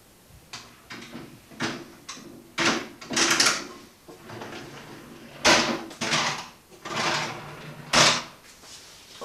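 Wooden drawers test-fitted into an oak buffet cabinet, pushed in and pulled out repeatedly with a series of close, rumbling slides and soft knocks, each stroke followed by a short pause.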